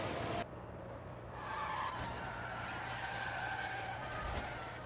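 A race car skids and crashes in the F1 Manager 24 video game at Las Vegas, with a short loud tire screech followed by sustained engine and skidding noise at close range.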